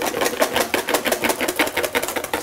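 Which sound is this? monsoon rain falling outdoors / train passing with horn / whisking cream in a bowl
whisking cream in a bowl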